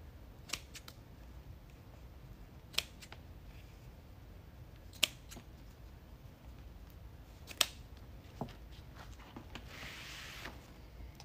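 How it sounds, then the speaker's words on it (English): Scissors snip through ribbon in a few separate sharp, quiet cuts spaced seconds apart, with a soft rustle of ribbon near the end over a low, hushed room background. "all I'm doing is folding the ribbon in half and cutting it at an angle"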